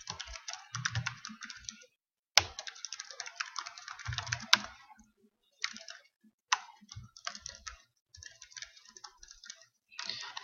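Bursts of typing on a computer keyboard, quick irregular clicks in short runs separated by brief pauses, fairly close and alone with no talking.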